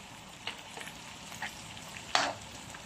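Shrimp fry in a pan for gambas al ajillo, a quiet low sizzle broken by a few soft taps and a brief louder clatter as they are turned over.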